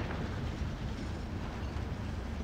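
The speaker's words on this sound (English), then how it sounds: "We're on the choo-choo train." Moving train in the video game Modern Warfare: a steady, dense low rumble of rolling wheels and wind, loud and continuous throughout with no pauses.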